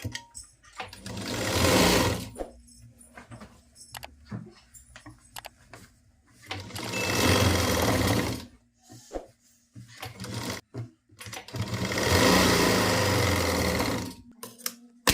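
Sewing machine stitching a pleated nighty, running in three steady bursts of about two seconds each, separated by quiet pauses with small handling noises.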